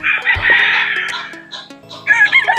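A Pure Goldenboy Sweater gamefowl rooster, about seven months old, crows loudly and close by, its drawn-out call trailing into further clucks and a second rising crow.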